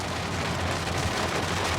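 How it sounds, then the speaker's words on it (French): Steady rain pours down outdoors in a continuous, even wash of hiss with a low rumble beneath, loud and unbroken throughout, with no voices. "est-ce que vous entendez le bruit de la pluie"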